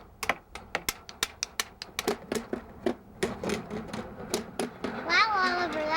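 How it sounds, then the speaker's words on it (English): Sticks banged together by children, a run of sharp, rapid knocks in an uneven rhythm, close by, followed by a voice at the end. "Keenan and Emma were banging sticks together and they made a nice noise."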